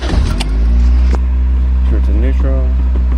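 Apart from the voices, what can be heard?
1990 Toyota Sera engine starting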